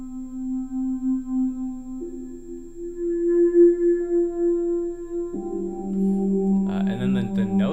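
Layered synth pad built in Kilohearts Snapheap from a mono synth patch with spread, detune and reverb, holding sustained tones that step up in pitch, then thickening into a denser chord with brighter upper layers near the end.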